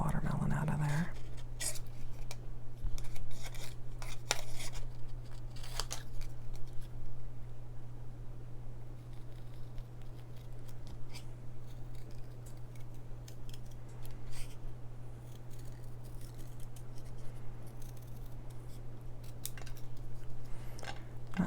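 Scissors snip a watermelon shape out of patterned paper for a handmade card, giving soft, close, irregular cuts over a steady low hum, with quiet talking at times.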